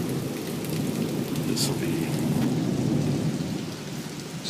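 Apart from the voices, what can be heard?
thunderstorm with thunder and rain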